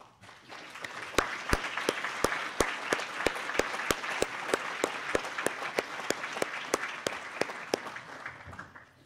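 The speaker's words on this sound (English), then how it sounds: "we'll give you a round of applause" Crowd applauds college foundation board members, a steady hiss of many hands with one sharp, close clapper standing out in a regular beat above the rest, fading at the end.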